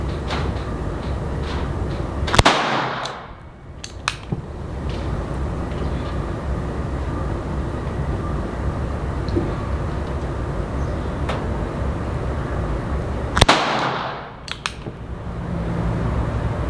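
A Colt King Cobra .22 LR revolver with a 6-inch barrel fires CCI standard velocity rounds outdoors, a few sharp cracks spaced far apart over a steady background hiss.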